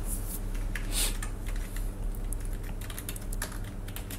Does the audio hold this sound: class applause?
no